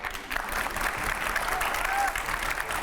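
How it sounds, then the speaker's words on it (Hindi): A crowd claps steadily in a dense, continuous wash of applause, with a voice faintly mixed in underneath. "ताली तो बजाओ"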